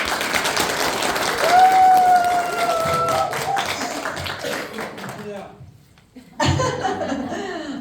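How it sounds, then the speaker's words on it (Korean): An audience at a Korean business presentation breaks into applause and light laughter, loud and sustained for several seconds. The sound drops away briefly, then a voice and a fresh burst of clapping return near the end. "그러면 그 박수가 좀 컸으면 더 좋을 것 같아요."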